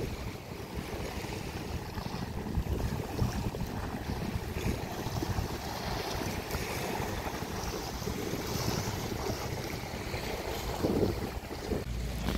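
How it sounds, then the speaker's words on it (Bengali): Large waves roll in along the coast near Kolkata, a broad, steady roar of surf mixed with wind buffeting the microphone, continuous and loud, with no talk. "দেখুন আবার কিন্তু ঢেউ এসছে, বিশাল ঢেউ এসছে আবার"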